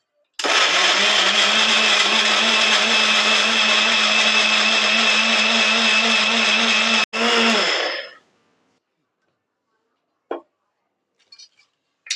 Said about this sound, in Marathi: ह्या तीन मिरच्या पण आपल्याला कांदा टोमॅटो सोबतच बारीक करायच्या आहेत